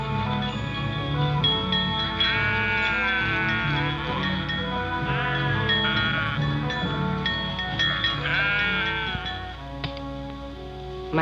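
A flock of sheep bleats continuously, many overlapping calls rising and falling at once, loud and close.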